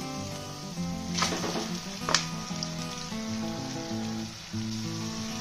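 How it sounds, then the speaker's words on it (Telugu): Chicken pieces frying in a clay pot give a loud, continuous close-up sizzle with a few sharp crackling spurts and stirring, and no voices. "ఇప్పుడు ముందుగా క్లీన్ చేసి పెట్టుకున్న చికెన్ వేసేస్తున్నాను."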